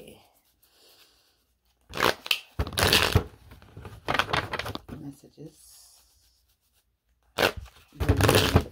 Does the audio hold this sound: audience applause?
no